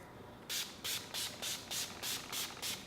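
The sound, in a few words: makeup setting spray being sprayed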